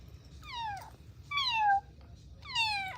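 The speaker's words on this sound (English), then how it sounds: "It's such a hard life you have, kitty cat." Cat meowing three times, each a drawn-out falling mew, close and fairly quiet over a low background hum.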